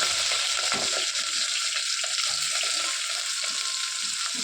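Chopped onion and curry leaves sizzle in hot oil, a dense, continuous hiss up close, with occasional soft stirring scrapes.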